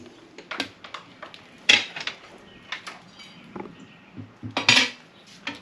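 Metal tire spoons for changing tires on a motorcycle, with Pirelli tires nearby, clink and clatter in scattered sharp metallic hits and scrapes, two louder clanks standing out, close by with no talk.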